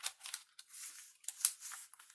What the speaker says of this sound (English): I'm going to cut my corners off here